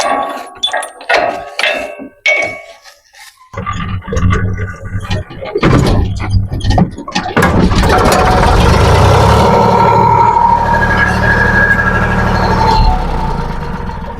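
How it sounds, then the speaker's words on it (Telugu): A tractor engine clatters with a few knocks as it starts, then settles into a loud, steady, close running rumble. "సో గాయ్స్ ట్రాక్టర్ వచ్చేసి స్టార్ట్ అయింది"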